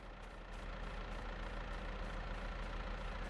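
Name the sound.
tractor engine idling in farming video game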